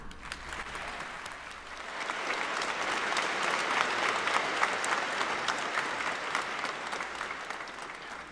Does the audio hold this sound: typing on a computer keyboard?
no